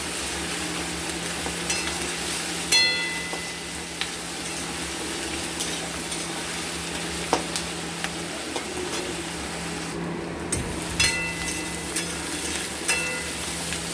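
Salted onions fry in a pan for a mutton and potato curry, a steady loud sizzle broken by periodic scrapes and clicks of stirring, with a low hum beneath.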